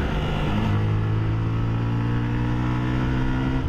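A Yamaha R15 motorcycle rides on a racetrack, its engine droning loud and close with a steady, slowly rising pitch under wind rush, no talking.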